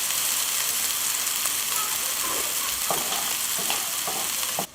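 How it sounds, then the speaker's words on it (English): Slices of Saumagen, Palatinate stuffed pork stomach, fry in a little hot oil with a steady, close sizzle and hiss throughout, broken by a few soft taps and shuffles near the end. "So a little bit of oil, and then put them on. Hot. And we give them a bit of a fry."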